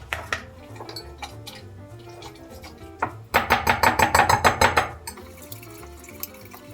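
A knife finely chops tomato on a cutting board, with scattered kitchen clatter, then a fast run of about a dozen sharp, evenly spaced close chops before it settles back to light clinks.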